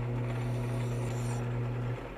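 A new sharp file smooths scratches from a metal piece, heard as a quiet rasping under a steady low mechanical hum that cuts off just before the end.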